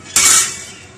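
A metal cake pan is set onto a stand inside a preheated metal cooking pot, giving one sharp, close clank followed by a brief ringing decay.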